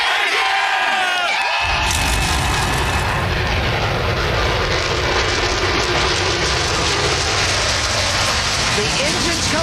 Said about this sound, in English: The engines come to life on the pit lane as the Naval Hornets go blasting by overhead.